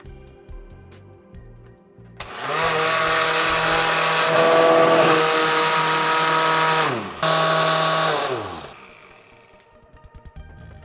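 A blender runs on high, whipping a mustard ice cream mixture: a loud, steady motor whir starts abruptly, dips briefly, surges back, then winds down and stops, with quiet room sound before and after.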